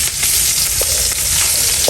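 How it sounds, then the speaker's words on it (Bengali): Cumin seeds, dried chilli and chopped garlic sizzle in hot oil, a loud, close, continuous hiss with a few faint spattering pops. "এবার জিরা ফোড়ন দেবো তেলের ভিতরে, দেবো শুকনো মরিচ রসুন কুচি"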